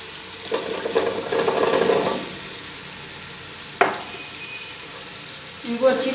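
Turnips and meat being fried and stirred in a pan, an uneven sizzle with scraping and clinks of a utensil against the pan, one sharp knock midway, close-up with no speech.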